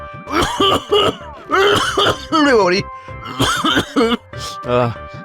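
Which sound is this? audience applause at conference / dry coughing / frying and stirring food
dry coughing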